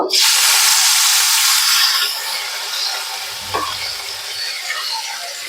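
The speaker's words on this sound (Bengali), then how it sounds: "চিংড়ি শুটকি গুলোকে নেড়ে চেড়ে একদম লাল লাল করে ভেজে নিয়েছি।" Dried shrimp hitting hot mustard oil in a pan, a loud burst of hissing sizzle that eases into a steadier fry with a brief scrape of stirring, no voices.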